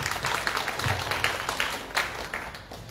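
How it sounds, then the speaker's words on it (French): Audience applause following a tribute at a French literary event honoring the poet Leconte de Lisle, a steady wash of many hands clapping at moderate distance for about three seconds, with no speech over it. "On peut les applaudir malgré tout."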